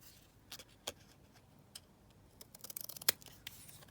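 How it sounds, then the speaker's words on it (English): Scissors snipping paper for a collage on a map board, a handful of quiet, sharp clicks spaced out, then a quick run of closely spaced cuts ending in one crisp snip, faint and close in a quiet room. "Let's just snip this down."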